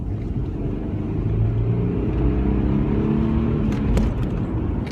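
Toyota 4Runner with a naturally aspirated engine accelerating at full throttle through a tunnel, a steady, rising engine drone heard from inside the cabin along with wind and road noise, and no talk.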